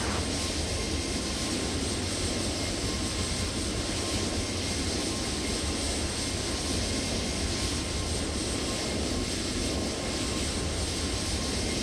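Toliss A321neo jet engines at takeoff thrust in the X-Plane 12 flight simulator, a loud steady roar with a thin high whine holding constant throughout, without voices.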